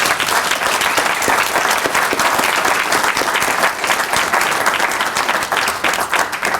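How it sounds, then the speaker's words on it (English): A large audience at a University of Johannesburg professorial inauguration applauds loudly and continuously, a dense, steady wash of clapping with no talk over it. "Let's just do a round of applause to all of us,"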